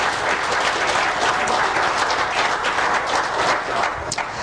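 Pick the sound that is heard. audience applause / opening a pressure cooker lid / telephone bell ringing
audience applause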